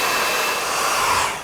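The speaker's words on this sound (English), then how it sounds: "Use a hairdryer." A hair dryer blows steadily from a few inches away onto masking tape stuck to a wall, a continuous close, even whoosh of air with a loud, unbroken hiss that holds the whole time.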